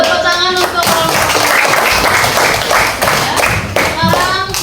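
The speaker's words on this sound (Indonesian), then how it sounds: "Tepuk tangan untuk kelompok" Students in a classroom clap for a presenting discussion group, giving brisk, close applause that keeps up at a fairly even loudness, with children's voices and chatter mixed in.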